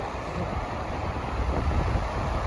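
Waves and wind along a beach on Rømø in Denmark form a steady, moderately loud wash of surf mixed with wind rumbling against the microphone, no voices.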